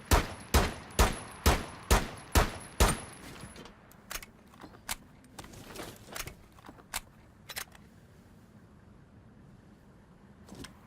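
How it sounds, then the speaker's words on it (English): P12 pistol in Rainbow Six Siege fired with no attachments while aiming down sight: seven sharp, evenly spaced shots, then quieter, irregular clicks and clatter. "First up we have the P12 with no attachments, aiming down sight, with a controlled fire rate"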